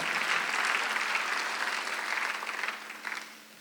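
A church congregation claps together during a Sunday worship sermon, a dense, steady wash of applause that holds for several seconds and tapers off near the end.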